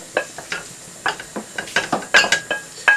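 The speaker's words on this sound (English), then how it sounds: "I'm going to take it out of the pan and just put it in a bowl" Crispy pancetta scraped from a pan into a bowl with a utensil, a quick series of close scraping clinks and taps of metal on pan and bowl, in an irregular rhythm with a faint sizzle beneath.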